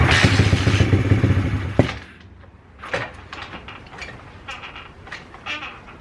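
A pit bike engine with freshly changed ignition timing runs loud and rough for almost two seconds, then cuts out. Scattered thumps, clatter and light rattles follow in the quieter space after it.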